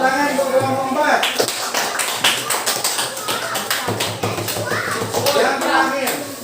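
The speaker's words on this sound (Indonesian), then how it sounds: "Tepuk tangan untuk kelompok 4." A classroom of students claps for a group after a science lesson presentation on separating mixtures, the brisk, fairly loud applause breaking out after a moment of talk and mixing with children's voices.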